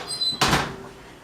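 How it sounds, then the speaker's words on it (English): An oven door swings shut on loaves of banana bread set to bake, a single close thud with a brief rattle that fades out quickly in a quiet kitchen. "Now we want them in the middle of the oven."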